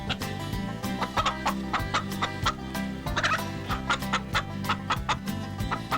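Chickens and a big rooster on a farm cluck busily in short, repeated bursts over a constant low layer of background sound.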